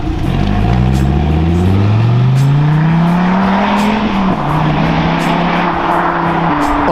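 A loud, close Dodge Viper GTS of 650 hp roars as it accelerates. Its deep engine tone climbs steadily over several seconds, then settles into a sustained high-revving drone with no voices over it.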